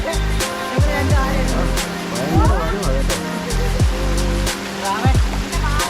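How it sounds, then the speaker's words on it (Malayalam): A forest waterfall tumbling over rocks makes a loud, continuous rushing roar close by, with people talking over it throughout. "നോക്കേ വെള്ളച്ചാട്ടം കണ്ടോ."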